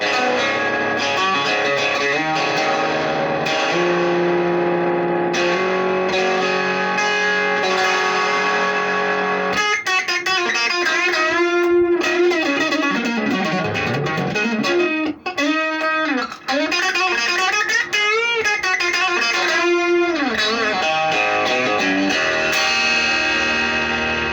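A heavily distorted electric guitar through an Orange Crush 12 amplifier, gain at 12 o'clock and distortion at 2 o'clock, plays chords and bending lead lines, loud and sustained, with a thick overdriven tone throughout.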